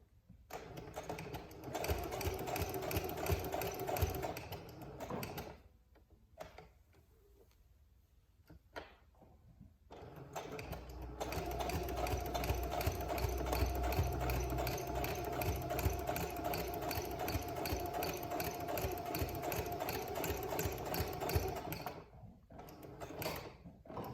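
A sewing machine stitching a pad makes a steady mechanical whirr with a fast rhythmic needle chatter, running in long stretches broken by a few seconds of near quiet.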